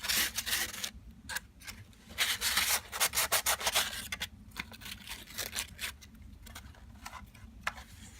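Grit sandpaper scrubs excess glue off the back of a 1950s Kay K-6970 Swingmaster guitar, close rhythmic rubbing strokes in bursts with brief pauses between them.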